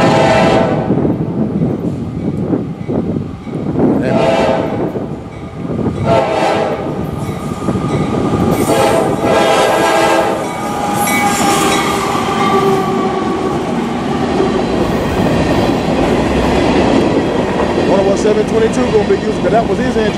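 A CSX freight train led by two AC44CW locomotives rumbles past up close with a steady roar, clattering wheels and blasts of its horn, while a voice talks over the noise.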